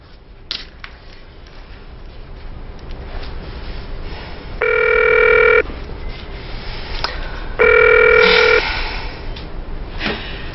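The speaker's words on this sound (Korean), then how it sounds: "전화 한번 해봐야겠다." A telephone rings twice, each ring about a second long with a gap of roughly two seconds, clearly heard over a steady hiss of background noise.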